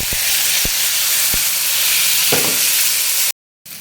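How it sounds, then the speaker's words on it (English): Food fries in very hot palm oil for a Pad Thai dish, a loud, dense, continuous sizzle and crackle with a few sharp ticks and a brief louder splutter, cutting off abruptly near the end. "I made the oil hot and I'm using palm oil. It's really burning."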